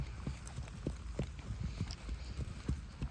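Rhythmic hoofbeats of a horse trotting, evenly spaced thuds against a soft outdoor background, fairly close and moderately loud.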